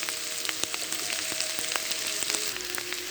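Fish roe fries in oil in a pan alongside bitter gourd, giving a steady close crackling sizzle with scattered sharp pops and spits throughout, no voices.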